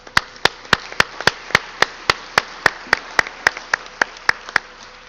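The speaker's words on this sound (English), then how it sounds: "Round of applause." Clapping at a high school sports assembly, a steady train of sharp, evenly spaced claps, about three per second, loud and close with no talking.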